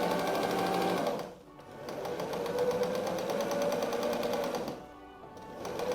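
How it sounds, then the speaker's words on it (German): Sewing machine stitching patchwork fabric diamonds for a six-pointed star, a fast continuous close whirring run that pauses briefly twice before starting again. "nähen wir das Ganze bis zum Ende durch"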